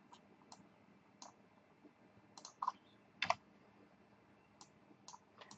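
Computer mouse being right-clicked and dragged to duplicate items: sparse, quiet clicks at irregular intervals, with a couple of sharper clicks near the middle, over faint background hiss and no talking.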